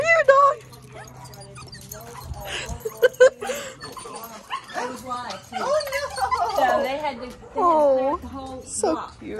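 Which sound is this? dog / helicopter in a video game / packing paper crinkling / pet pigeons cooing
dog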